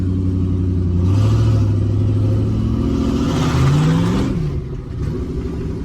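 Ford Focus twin-turbo V8 project car pulling away with sticking brakes, its deep engine droning and rising through revs, swelling twice before easing off near the end, close and loud.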